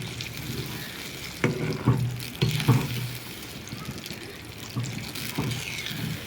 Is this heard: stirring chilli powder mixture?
yes